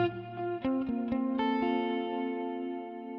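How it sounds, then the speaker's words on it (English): Clean electric guitar played through a Neural DSP Nano Cortex with delay and reverb: several plucked notes and chords ring out and sustain, with echoing tails hanging under each new strike. "We will have a delay. We will have reverb."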